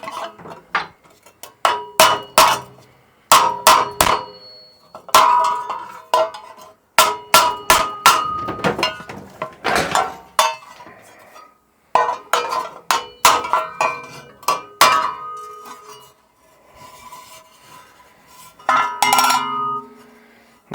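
A hammer taps a fabricated metal box in irregular clusters of sharp, ringing metallic strikes, close and loud with short pauses between groups.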